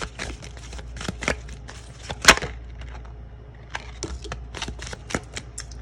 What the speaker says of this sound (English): So I'm just going to pull one more oracle card